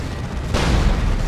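Lascannon firing in the real-time strategy game Dawn of War 2, a single sudden loud blast that bursts into a sustained booming roar amid dense battle noise.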